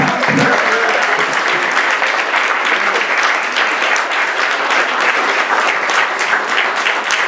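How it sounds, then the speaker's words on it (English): A large crowd claps loudly and continuously for honorees at the Art & Soul 2023 gala, a thick, even wash of applause lasting throughout. "Let's give them another round of applause for them."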